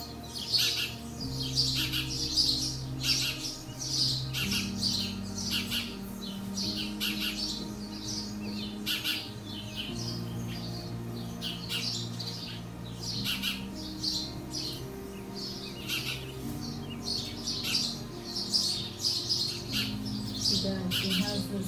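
Outdoors where a horse is being given massage, birds chirp and squawk in quick, scattered bursts throughout, moderately loud over a low background hum, with voices talking at times.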